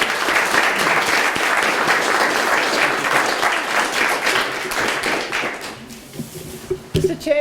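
An audience at a youth speech competition applauds to welcome the chief judge, dense sustained clapping that fills the room and fades after about six seconds, followed by a voice starting to speak.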